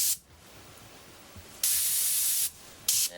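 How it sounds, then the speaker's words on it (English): An airbrush sprays gray paint in short bursts, a close, sharp hiss that starts and stops: one brief puff, a longer steady spray, then another short burst, with quiet gaps between. "then we'll take our gray and we'll spray that in"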